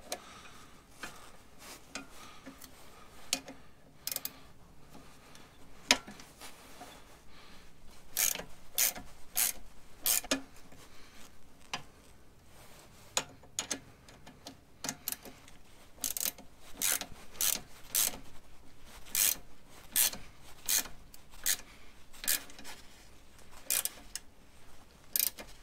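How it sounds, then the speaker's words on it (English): A wrench tightening a nut on a bolt behind a Jeep steering wheel, heard as sparse, sharp metallic ratchet clicks and taps in irregular bursts over a quiet background, with no speech. "So, I'm gonna sneak a wrench in the back there, And I think I'm gonna cheat and I will hold the bolt and tighten the nut."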